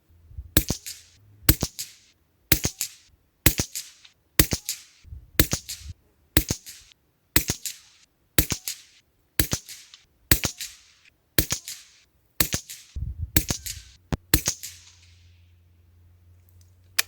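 Anschütz rifle firing GECO ammunition at a 50-metre range: about fifteen sharp, evenly spaced shots close to the microphone, one roughly every second, with a short quiet tail at the end.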